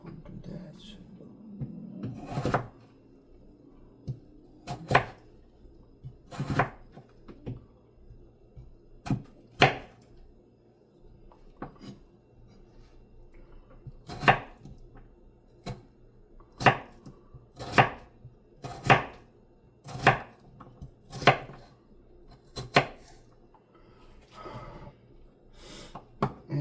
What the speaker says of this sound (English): this, my friends, is dicing up a huge potato